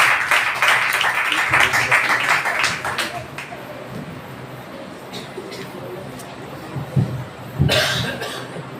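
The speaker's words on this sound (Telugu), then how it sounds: "అందరూ చప్పట్లు కొడుతూ" A church congregation at a Telugu prayer hall claps in a quick, dense patter for the first few seconds, then fades to low murmuring, with a short burst of clapping near the end.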